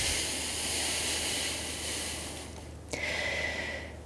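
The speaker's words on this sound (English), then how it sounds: "then we'll take 3 more big deep breaths here" Slow, deep breaths drawn in and let out during a chair-friendly hip mobility stretch, a long airy inhale followed by a sharp gasping intake and a hissy exhale, close and alone.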